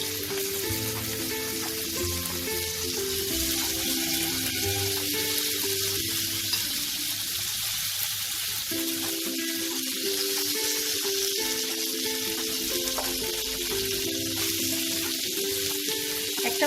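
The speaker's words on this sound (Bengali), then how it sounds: "এবার এটা গরম হয়ে গেছে, আমি একে একে এটাতে মাছগুলো দিয়ে দেবো।" Pomfret fish fry on an oiled grill pan (tawa) over a medium flame, giving a steady, close crackling sizzle with a faint low hum beneath, unbroken and without talk.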